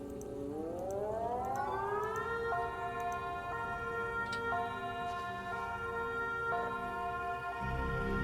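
A civil defense siren in the video game Voices of the Void winds up over about two seconds, then holds a loud, steady wail for the rest of the clip. There is a low rumble beneath it.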